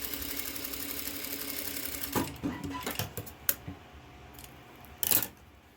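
A sewing machine runs steadily for about two seconds while stitching fabric binding, then stops. A few close clicks and handling sounds follow, with a brief louder burst near the end.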